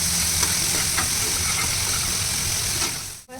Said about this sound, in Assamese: এতিয়া মই পনীৰখিনি ফ্ৰাই কৰিম।